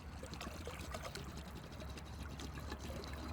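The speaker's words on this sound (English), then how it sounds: "What we're first going to do is just pour all of this." Liquid, likely chilled water, pours steadily in a continuous trickling stream, with low rumbling underneath and no talking.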